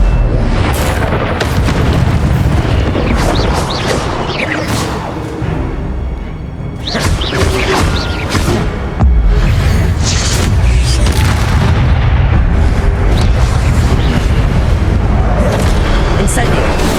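Incendio fire spell blasts in Hogwarts Legacy, heavy booming bursts repeating over a loud, busy combat scene with voices calling spells.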